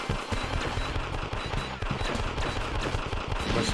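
Rapid gunfire in the arcade game Elevator Action Returns, with dense bursts of retro shots and booming low thuds over game music, continuous and loud throughout.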